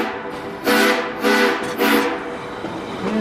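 A westbound diesel train on the Georgetown Loop Railroad climbs a hill, its horn sounding in three loud, bright blasts over a steady engine rumble.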